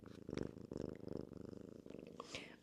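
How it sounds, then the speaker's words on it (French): A cat purrs close by with a soft, steady pulsing rhythm, quiet and continuous, with a brief small noise near the end. "Sachez que Azur, on l'appelle Miss Purr parce qu'elle ronronne tout le temps."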